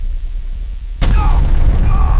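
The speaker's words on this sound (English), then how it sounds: "The explosion throws me across the ground." A meteor crashes and explodes in front of a biodome, a sudden loud boom that breaks an otherwise quiet moment and is followed by a roaring, crackling rumble with no voices.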